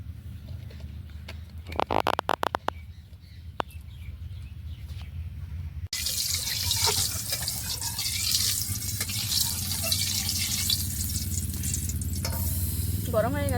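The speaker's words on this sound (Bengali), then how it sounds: "কড়াইটা গরম হয়ে গেছে এবার দিয়ে দেবো তাতে মাছ ভাজার জন্য তেল" Oil hits a hot wok heated for frying fish and bursts into a loud, steady hiss. Before that come a few quiet clinks and some stirring, and the sizzle then carries on unbroken to the end.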